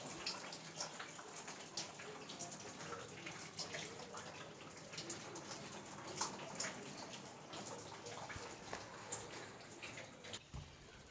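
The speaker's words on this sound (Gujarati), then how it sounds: "અને વરસાદ ચાલુ છે, ઝીણો ઝીણો વરસાદથી પણ ચાલુ છે" Soft, steady patter of light rain, faint and distant, with scattered drips landing now and then.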